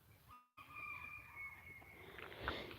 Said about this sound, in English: I love this chicken. It's really funny.